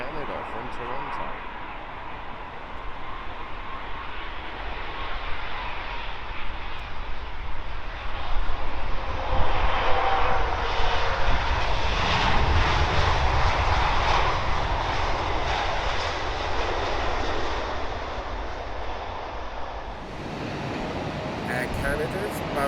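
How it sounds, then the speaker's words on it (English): A British Airways Boeing 777-200 arriving from Toronto at London Heathrow, its jet engine roar swelling to a loud peak mid-way and then easing off, with a voice talking over the noise. "British Airways Boeing 777-200, and that has come from Canada, from Toronto."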